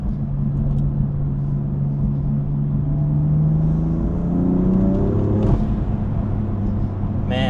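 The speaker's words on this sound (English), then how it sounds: "They make just the right amount of sucking noise, and then the blow-off noise after you let off is so good." A BMW M4 Competition F82 with new intakes and downpipes accelerates hard, engine note climbing steadily through the revs as a loud, close rumble, then shifting near the end.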